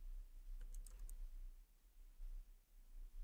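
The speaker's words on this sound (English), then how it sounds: "Now you type the password and hit enter." A few quick keystrokes on a computer keyboard while typing a password into an Ubuntu Linux terminal, faint, clustered in a short burst near the start, with low hum and no talking.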